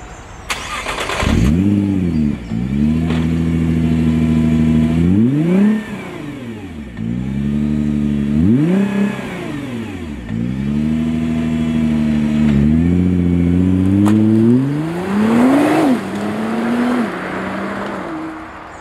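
A 2018 Nissan GT-R Track Edition engine starts with a sharp burst, then revs up and down in repeated rising and falling sweeps, loud and close, for most of the stretch with no talk.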